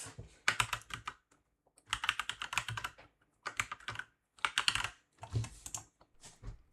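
Code is typed on a computer keyboard in bursts of rapid clicking keystrokes, close and clear, separated by short pauses, with no talk.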